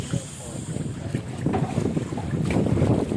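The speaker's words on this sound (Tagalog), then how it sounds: "Hangin yan." Strong gusting wind buffets the microphone in rough, uneven bursts, with faint talk and water sounds underneath.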